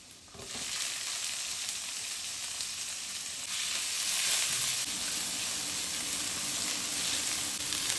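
Garlic, onion and green chilies sautéing in a pan, a loud continuous close-up sizzle that swells slightly as the pieces are tossed, with no voices over it.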